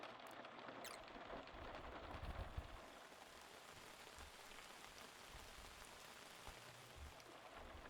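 Steady rain falling and pattering on surfaces in the Outbound video game, a continuous even wash at low level with a few faint low thumps and no voices.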